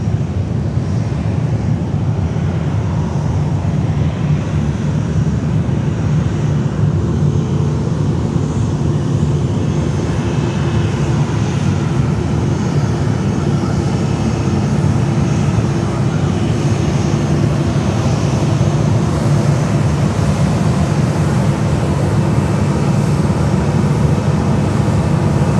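A JetBlue Airbus A320 jet airliner at Fort Lauderdale Hollywood International Airport produces a steady, loud, broadband engine roar that holds evenly throughout, with some wind buffeting on the microphone.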